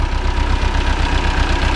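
A Long 900 tractor engine idles close by with a steady, throbbing low rumble that holds unchanged throughout, with no talking.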